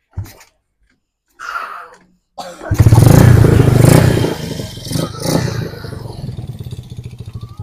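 A Motoposh Wavestyle motorcycle engine with a stock CDI cranks a couple of times, then starts up and revs loudly nearby before settling into a steady idle with some clatter.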